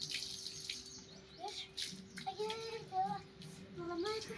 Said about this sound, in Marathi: पाईप पडलाय ना वेस्ट चाललंय पाणी